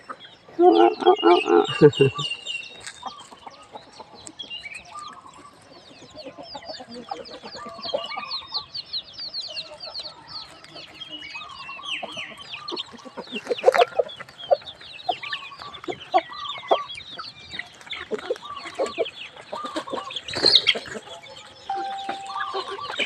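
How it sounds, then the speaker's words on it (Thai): Fighting chickens cluck and chatter continuously nearby at a temple in Lampang, Thailand, with occasional louder squawks and a rooster's call mixed in amid outdoor ambience. "ไก่ชน"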